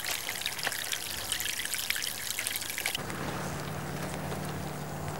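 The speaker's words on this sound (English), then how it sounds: "as we drain the water, you'll see there'll be no rotation. It just drains straight down" Water drains straight down out of a basin at the equator, trickling and dribbling steadily at close range; the tone shifts partway through into a smoother, lower gurgling flow.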